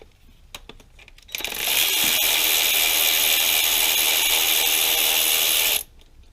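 A ratchet loosens two 10 mm screws on the coil pack of a 2005 Dodge Ram 5.7 Hemi, making a loud, steady, close whirring rattle that runs for about four seconds and then stops abruptly.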